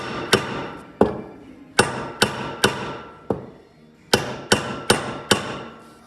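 Sharp, close metal-on-wood hammer strikes driving a wedge into an axe head, about a dozen ringing blows in uneven clusters with short pauses between, each decaying quickly.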